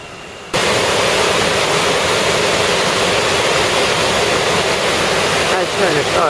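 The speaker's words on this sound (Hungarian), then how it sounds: "Hát ez a vízesés teljes egészében." A waterfall in Honduras roars as a loud, steady, broadband rush of falling water, close and constant throughout with no let-up.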